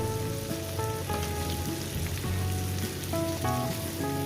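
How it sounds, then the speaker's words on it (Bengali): Small river fish and vegetables fry in a pan for a spicy chorchori, a steady dense sizzle like rain on a surface, with background music tones running over it and no talk. "ভালো করে আমি চার পাঁচ মিনিট ধরে এটাকে ভেজে নিয়েছি"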